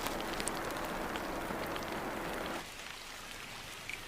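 Heavy monsoon rain pours steadily onto tropical forest on Christmas Island, a dense loud hiss that drops to a softer patter partway through, with occasional nearby drips and no talking.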